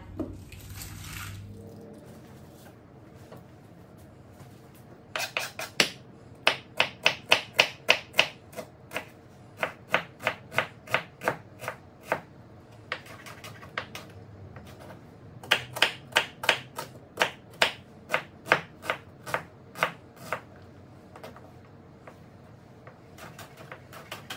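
A knife roughly dicing a small onion on a cutting board, with bursts of quick, crisp chopping taps in uneven runs separated by brief pauses, close and fairly clear with no talking.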